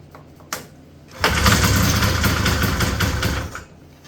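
A 1977 Ski-Doo Everest 440 snowmobile engine catches after a sharp click and a short pause, then snarls into a loud, steady rev for about two seconds before dropping back down.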